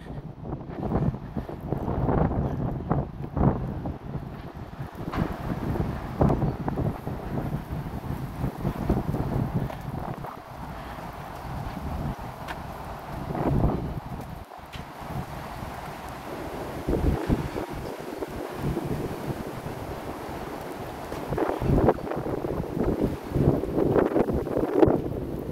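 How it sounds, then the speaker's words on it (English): Strong gusty wind blows outdoors on an Atlanta street, buffeting close to the microphone in uneven surges for the whole stretch, with faint background rumble. "It's getting super windy out here."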